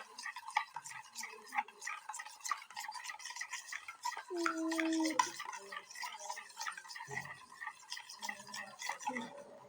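A mixture being stirred in a bowl with a utensil: soft, quick scraping strokes and light clinks, close by but fairly quiet, with a brief fuller swirl midway.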